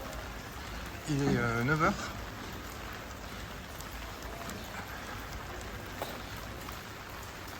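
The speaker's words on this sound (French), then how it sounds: "dans Guernica, un peu de pluie." A steady rain shower in Guernica, Spain, hissing evenly and softly throughout, with one brief spoken phrase near the start.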